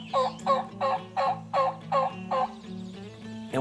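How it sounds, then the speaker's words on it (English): A wild turkey gobbles in an open field, one rapid rattling burst of about seven pulses, clear and fairly close, followed by a short quieter tail with no talking. "and we hear one gobble"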